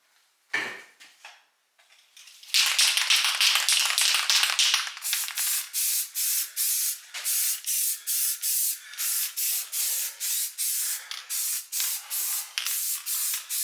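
Spray paint applied to cleaned rear axle parts from a 1968 GTO's GM 8.2 ten-bolt axle: a few scraping knocks, then close hissing spray bursts in a steady rhythmic series of short puffs.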